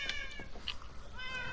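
Cats meowing in a video game, a few short high-pitched mews in quick succession, fairly close and moderately loud, with no talking.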